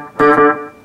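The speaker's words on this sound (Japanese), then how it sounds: "こういう感じで、後から追っかけてきてくれるエフェクターでございます。" An electric guitar chord rings out through a delay effect pedal, loud and sustained, with the note swelling and trailing off in repeating echoes over less than a second.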